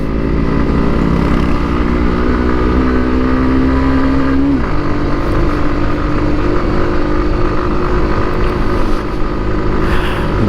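Motorcycle engine labouring steadily while riding on a hill road from Bogalake to Ruma, a continuous loud drone with a pitch that climbs and then drops near the middle, with no talk.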